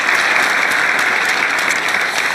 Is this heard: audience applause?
yes